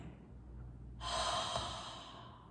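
A slow, deep yoga exhale pushed out through an open mouth, a soft breathy rush that starts after a quiet pause and fades gradually over about a second and a half.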